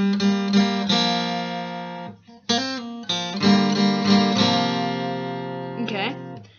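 Guitar plays a passage from So Far Gone by Thousand Foot Krutch, strummed chords ringing with a rich harmonic tone, one brief break near the middle before the strumming resumes, with no voice over it.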